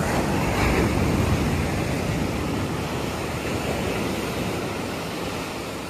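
Sea waves wash onto the coral-stone shore of Pasir Ganting beach in Pesisir Selatan, a continuous broad surf roar at moderate level, with no voices, easing slightly toward the end.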